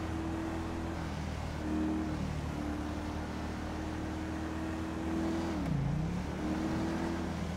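A car traveling along a highway in the right lane, its steady engine drone continuous and fairly loud, with a brief pitch dip near the end as a vehicle passes close by.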